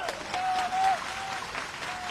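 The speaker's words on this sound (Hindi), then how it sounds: "अरे पिपरे की ताली सुनाई दो मुझे" A crowd at a political rally in Piprai, Madhya Pradesh, claps in a short, dense burst of applause, loud and steady with a voice carrying over it.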